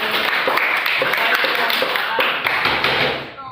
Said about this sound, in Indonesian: Oke, tepuk tangan untuk Ayu dulu